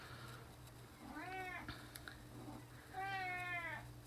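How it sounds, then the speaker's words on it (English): A cat meowing twice, giving two drawn-out, clear meows over a steady low hum, the second slightly louder and longer. "Did a cat just jump through the window?"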